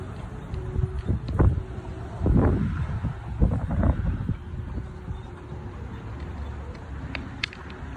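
Strong gusts thump and rumble against a phone microphone outdoors while flying a 160 cm Thai chula kite, irregular bursts loudest early on, then settling into a quieter steady blowing.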